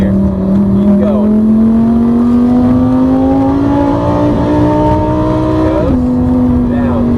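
A Lamborghini supercar's engine drones loud and close as it accelerates, its tone climbing steadily before dropping sharply near the end as if shifting gear.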